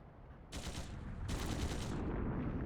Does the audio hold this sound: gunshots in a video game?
yes